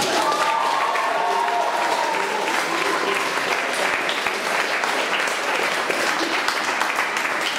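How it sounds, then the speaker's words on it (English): Sustained, dense applause from the audience at a stairwell concert, honoring everyone who performed that evening; steady and full throughout, with faint voices or tones mixed in near the start. "Can we get one more round of applause for everyone that performed tonight?"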